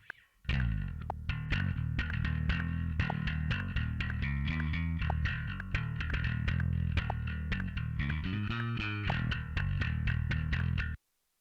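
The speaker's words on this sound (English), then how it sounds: "Now, if I were to turn on the BOD, you'll get a bunch of grit." Bass guitar DI signal run through a SansAmp BOD for grit and EQ matching, playing a continuous, gritty, distorted bass line that sounds loud and close for about ten seconds with no talking.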